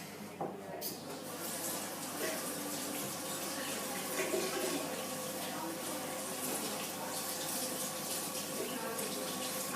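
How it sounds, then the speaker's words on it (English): Hands are washed under a running kitchen tap, a steady close gush of water with faint splashing that runs continuously throughout. "That's where you got to wash your hands."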